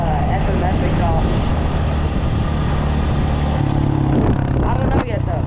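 Dirt bike engine while riding, a loud, continuous low rumble with shifting pitch and wind noise, heard up close.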